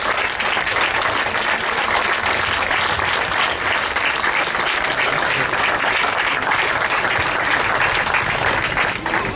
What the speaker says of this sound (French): j'aimerais tous qu'on les applaudisse.